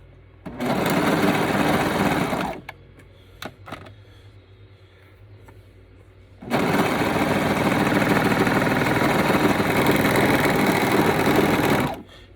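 A sewing machine with a rear trimming blade stitches and trims boxer shorts seams in two loud, fast-running bursts separated by a quieter pause with a few clicks.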